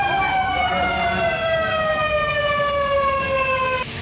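A loud wailing fire truck siren, responding to a fire, sweeps slowly downward in pitch over a rumbling engine, close by, cutting off abruptly near the end.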